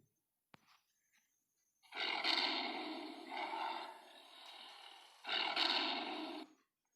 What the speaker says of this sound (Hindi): बाघ दहाड़कर अपनी ताकत को बताता है। बाघ की आवाज़ को भी दहाड़ना कहते हैं।